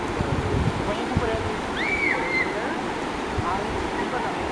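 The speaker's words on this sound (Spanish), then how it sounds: "Piscina natural, cascada." A waterfall pours into a natural pool near Otavalo, Ecuador, producing a loud, constant roar of falling water, with a brief bird-like chirp rising over it midway.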